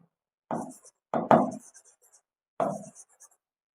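Three short scratchy strokes of writing on a board in a classroom lesson, brisk and close, separated by brief pauses.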